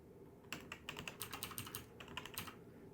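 Rapid clatter of typing on a clicky Red Dragon mechanical keyboard, with sharp, dense keystrokes close to the microphone in quick bursts and a short pause near the middle, no talking.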